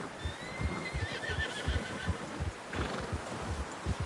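A horse in the video game Red Dead Redemption 2 whinnies with a rising, wavering neigh over steady clip-clop hoofbeats, close and moderately loud.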